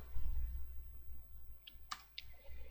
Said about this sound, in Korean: 계속 버튼 클릭하겠습니다.